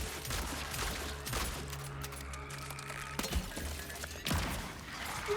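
Heavy gunfire, a shotgun or assault rifle in the survival horror game Cronos: The New Dawn, booms in several sharp, dense blasts amid gritty ambient rumble, with no talking.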